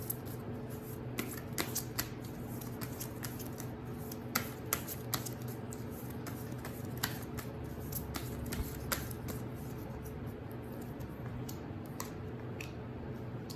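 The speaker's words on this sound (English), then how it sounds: "So I'm going to shuffle these cards now." Tarot cards are shuffled by hand in a quiet room, giving a steady papery riffle with sharp slaps and flicks throughout, close and alone with no talking.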